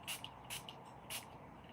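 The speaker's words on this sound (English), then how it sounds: "I don't know why I'm spraying everything." A handheld spray bottle fires three short, quiet hissing spritzes at an uneven pace, with soft shuffling between them.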